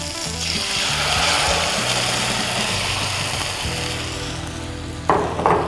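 Loud, steady sizzling as curd hits a hot South Indian tempering of dried red chillies and curry leaves for paruppu urundai mor kuzhambu, a dense crackle that fades slightly before a brief louder burst near the end.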